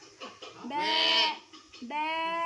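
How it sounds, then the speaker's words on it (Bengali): A baby goat lets out two drawn-out, wavering bleats close up, separated by a short pause. "ছাগলকে ম্যা করে দাও তো"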